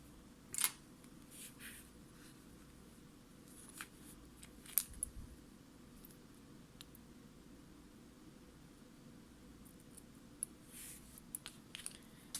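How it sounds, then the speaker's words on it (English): Scissors snip crochet yarn in a quiet room, a few sharp, faint clicks spread irregularly over the span against a soft hiss. "I will cut the yarn."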